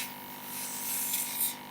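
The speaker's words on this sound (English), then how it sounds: "And then take and run your finger across the toothbrush." Watered-down paint flicked off a toothbrush by a finger run across its bristles, a soft continuous spraying hiss close by, swelling slightly toward the end.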